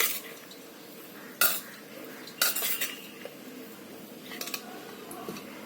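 Spoon clinks against a bowl as spiced cauliflower gobi paratha stuffing is mixed with coriander leaves, a few sharp separate metallic taps and scrapes spread over a quiet background.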